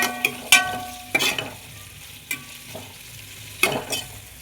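Onions frying in a pan, a soft steady sizzle under repeated scraping and clinks of a spoon stirring against the metal; no voices.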